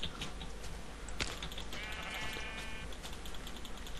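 Blocky sheep in a Minecraft server game bleat in a short wavering burst over a steady bed of game ambience and low rumble, with no talk during it.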